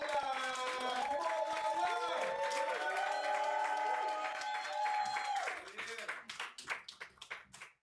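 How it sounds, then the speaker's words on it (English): Clapping from an audience at a spoken-word poetry event, rising under music and voices and then breaking into scattered, uneven claps as the sound tails off. "Start clapping right now"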